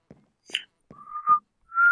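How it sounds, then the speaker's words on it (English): A spider mob in the video game Minecraft makes short chittering clicks that alternate with thin, rising whistle-like tones, a few quick separate bursts heard alone. "I hate the new noise for the spiders."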